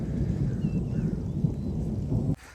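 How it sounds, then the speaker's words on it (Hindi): Deep thunder rumbling through a storm as light rain drizzles, a low, continuous roll that stays fairly loud and then cuts off abruptly near the end. "बादलों के गरज की आवाज़ सुने दोस्तों, कैसी खौफनाक आवाज़ें आ रही हैं।"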